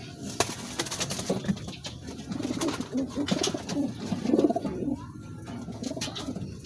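A white pigeon coos in soft, repeated rolling phrases, close and moderately loud, with faint ticks and wing shuffles in the background and no talking.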